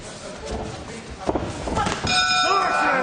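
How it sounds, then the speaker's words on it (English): A boxing ring bell clangs with a bright, ringing tone during a professional bout, sounding once and sustaining over the crowd noise and busy commentary. "Right hand right on the bell from Thomas Essomba."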